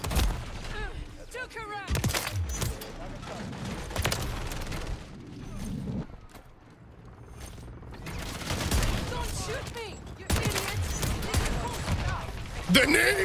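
Grenade blasts and heavy gunfire from a Call of Duty MW3 multiplayer match, with bursts and booms landing in loud clusters across the stretch, broken by a brief quieter lull, and a voice talking over the chaos.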